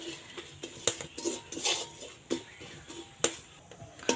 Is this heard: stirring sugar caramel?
yes